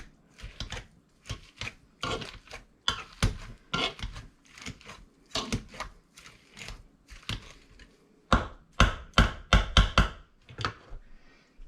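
A second-hand hand masher crushes shepherd's pie filling in a pot, producing rapid rhythmic squishing thumps in close, uneven bursts with short pauses and no talking.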